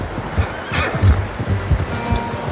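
A horse in the video game Red Dead Redemption 2 gives a loud, close whinny with a few snorts and light hoof clops, heard alone with no talking.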